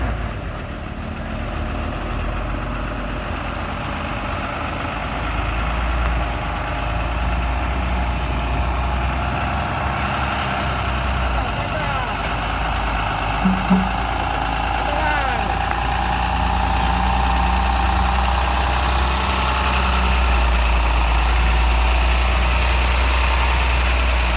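A heavy truck engine labours up the steep Kedabuhan climb, a loud, continuous low drone that holds for the whole stretch, with voices faintly heard beneath it.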